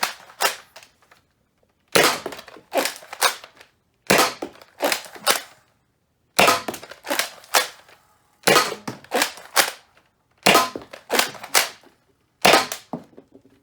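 A FaZe Clan Respawn blaster firing traditional Nerf Rival foam rounds in seven evenly spaced volleys of three to four sharp snapping shots each, loud and close with silence between bursts.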